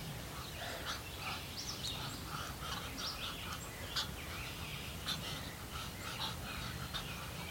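Muscovy ducks hiss, huff and make soft breathy calls in the morning, a busy close chorus of short bursts over steady background rumble with no speech.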